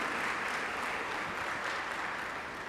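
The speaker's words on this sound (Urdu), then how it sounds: "have a big round of applause" A seated audience at a formal function claps steadily for a guest artist, a dense, even wash of applause lasting throughout without pause.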